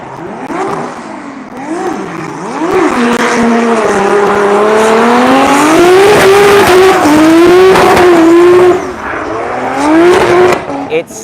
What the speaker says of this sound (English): Now we've got Ella Coco driving Andros Antoniou's R32 with an R34 front end.